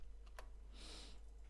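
Keystrokes on a computer keyboard while a password is typed to log in to a Kali Linux lab machine, a few quiet taps and a short burst of clicks, faint and close over a steady low hum.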